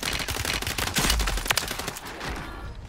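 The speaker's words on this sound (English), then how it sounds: "I'm out in the open, getting shot at." Gunfire in the video game Call of Duty: Warzone, with rapid overlapping bursts of automatic weapons crackling close and loud, then thinning to scattered shots near the end.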